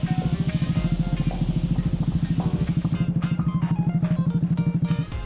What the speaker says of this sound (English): we pull over to take a break and finally give Nick a little spin on the Grom